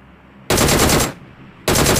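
Loud PUBG Mobile gunfire in two close, sustained automatic bursts, the first lasting about two-thirds of a second and the second starting after a short pause, with no talking over it.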